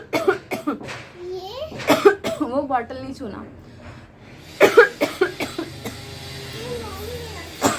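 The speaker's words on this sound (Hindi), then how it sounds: "देखो कितनी गंदी खांसी आ रही" A mother coughs in a few harsh, close bursts while a child plays nearby, with her speaking between the coughs.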